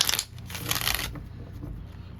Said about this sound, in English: Let's give it another shuffle here.